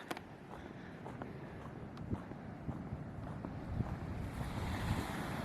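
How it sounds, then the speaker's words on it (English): Ocean breakers roll onto a shallow beach on the Eyre Peninsula, a distant rushing surf heard under heavy wind buffeting the microphone, growing slightly louder toward the end. "Some breakers coming in over there."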